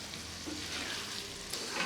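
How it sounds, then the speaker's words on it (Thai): Okra and potatoes stir-fried in a pan with salt and a little water; a quiet, even sizzle with light stirring throughout, no voices. "ผัดคลุกทั่วแล้วปิดฝา"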